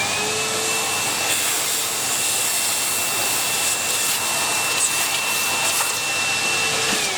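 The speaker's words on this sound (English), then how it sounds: "Let's get the vacuum on there." A workshop vacuum extractor runs steadily during milling of a stepper motor leadscrew drive part, a loud continuous whooshing roar with a faint high machine whine.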